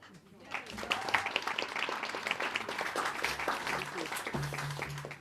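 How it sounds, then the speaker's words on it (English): Audience applause at a disability sector election event welcoming the MC, a moderate burst of clapping that rises quickly and carries on steadily, with some voices murmuring underneath. "big round of applause for our comp here, our MC"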